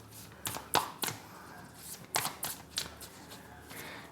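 Tarot cards being shuffled by hand, a series of crisp riffling bursts and soft slaps in quick irregular succession, close and fairly quiet, with no talk.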